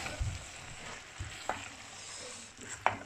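Vegetable noodles and spaghetti get tossed and mixed in a pan, soft sizzling under a few distinct scraping knocks of the utensil, fairly quiet.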